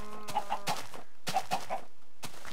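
Blocky chicken clucks from the Minecraft video game sound in two quick bursts of three short, bright clucks, separated by brief gaps and fairly close, with no talking.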